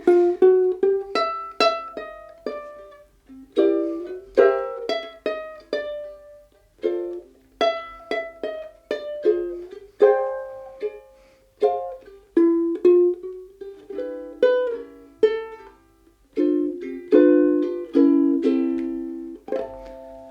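A ukulele picks out a simple, unhurried melody, each note ringing and decaying in a gentle, steady rhythm with no voices.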